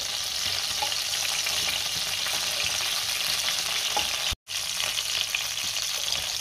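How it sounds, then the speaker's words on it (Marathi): Eggplant for a Maharashtrian masala vanga frying in oil with a steady, loud sizzle and occasional stirring while the pieces are turned, with a brief dropout midway. "आता पुन्हा आपल्याला वांगी चांगली अशी पलटून घ्यायची आहे"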